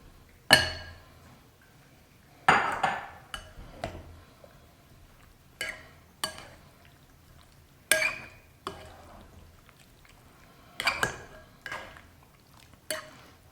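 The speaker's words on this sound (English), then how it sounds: "we're going to go ahead and fold in our broccoli" Broccoli folded into beef in a bowl, with a series of sharp clinks and scrapes of a utensil against the bowl at irregular intervals, about ten separate hits with quiet gaps between, no talking.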